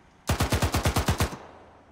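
A single rapid burst of about ten automatic gunshots in the video game Arma 3, loud and close, followed by a short fading echo.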